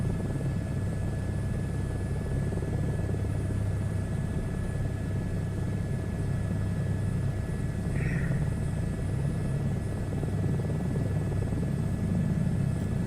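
A helicopter flies in a VR flight game, a steady, moderately loud rotor-and-engine drone that holds constant throughout with little change in pitch.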